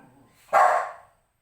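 A single loud, close dog bark cuts through a quiet background and fades quickly, with no talking.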